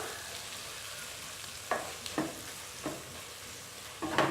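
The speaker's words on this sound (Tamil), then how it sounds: "இப்போ நம்ம இஞ்சி பூண்டு விழுது டைமில் போட்டுக்கலாம்" Faint steady sizzle of ginger garlic paste frying in a pan, with a few soft stirring scrapes near the end.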